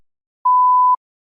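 One clean, mid-pitched electronic tone lasts half a second, with silence before and after.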